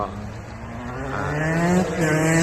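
A street racer's car drives past on a town street in Joensuu, its engine tone rising steadily as it draws nearer and grows louder over about two seconds.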